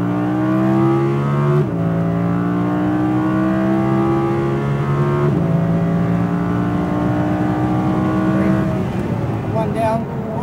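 An Audi R8 V10 RWD powers around a race track, its engine droning loud and close from inside the car with rising pitch through the gears and a brief dip at a shift, while people talk over it.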